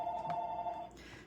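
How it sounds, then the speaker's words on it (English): A telephone bell rings indoors, a single sustained electronic ring that fades out before the clip ends, mid-distance and fairly quiet, with no voices. "Sorry that the phone is ringing."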